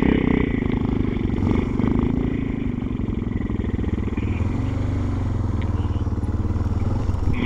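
A motorcycle engine revs continuously as the bike churns through muddy forest track. Loud, close, rough throttle rumble with clattering, rising and falling across the whole stretch, no talking.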